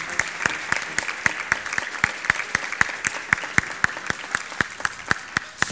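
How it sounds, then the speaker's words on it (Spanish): Steady, rhythmic clapping from a crowd at a kindergarten graduation ceremony, many hands beating in a quick even pulse across the whole stretch with no talk over it. "¡Aplauso fuerte!"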